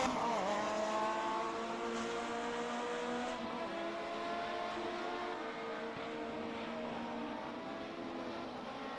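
An Alfa Romeo 155Ti race car in a racing video game at Silverstone, its engine droning steadily under acceleration with a continuous, layered harmonic whine that stays close and even throughout.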